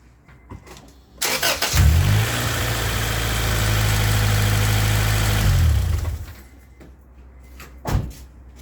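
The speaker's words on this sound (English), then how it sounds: "It runs good and starts up great" A Honda Integra with a recently repaired head gasket cranks and fires up after a door thud, revving briefly before settling into a steady, loud idle, then shuts off, followed by another thump.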